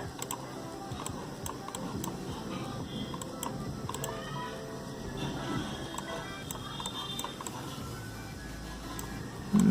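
Quick, light key taps on a computer keyboard while entering a search, clicking in an uneven run of small strokes over a low room hum, with a voice talking over part of it.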